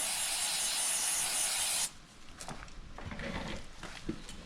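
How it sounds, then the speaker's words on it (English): Chain cleaner sprays onto the chain of a 2022 Ducati Panigale V4S in a loud, steady hiss lasting about two seconds, then cuts off, leaving quieter handling and wiping noises. "Get a little bit more chain cleaner."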